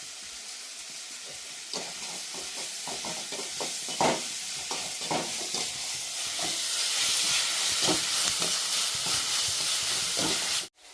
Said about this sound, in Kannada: ಈಗ ಹಾಕಿ ನೋಡಿರಿ ಸ್ವಲ್ಪ ಹಿಂಗೆ ಅದು ಕೂಡ ಫ್ರೈ ಆಗಲಿ